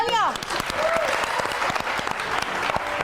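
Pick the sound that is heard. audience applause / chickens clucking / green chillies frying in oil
audience applause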